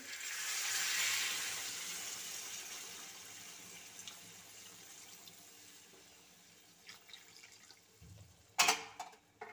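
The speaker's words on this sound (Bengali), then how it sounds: "এবার দিয়ে দেব পরিমাণ মতো গরম জল।" Hot water poured into a pot of small whole potato curry, a gentle splashing pour at the start that fades into a low simmer, followed by a couple of louder knocks and clatters near the end.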